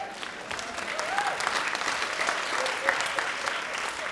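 Audience applause from a stand-up comedy crowd fills the space as a steady wash of clapping, with a few faint whoops on top.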